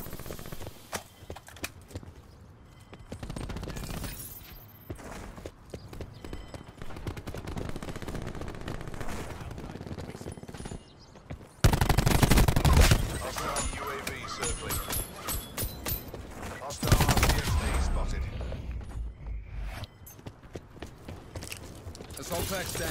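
Gunfight in Black Ops 4 multiplayer with repeated bursts of automatic gunfire and loud impacts throughout, mixed with game sounds and a player's voice talking over it.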